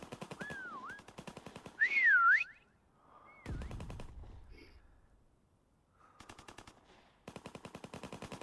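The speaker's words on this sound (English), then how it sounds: "Get your whistle on." Whistle taunts in the video game Prop Hunt, several looping, warbling tones interleaved with bursts of rapid game gunfire, some loud and close, no speech.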